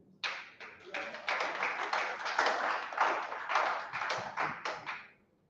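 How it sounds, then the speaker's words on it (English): Audience at a South-East disability voting campaign event clapping in a steady burst of claps, rising quickly and continuing for about five seconds before stopping abruptly. "Now you're clapping like someone is forcing you"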